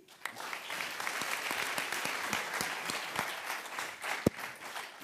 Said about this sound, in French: Pierre Kosciusko, on l'applaudit.